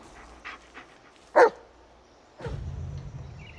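Dog barking in the Blair Witch video game: a single sharp bark stands out over faint ambient game sound, followed by a low rumble or shuffling.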